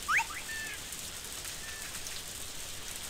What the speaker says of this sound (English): I just heard a bird.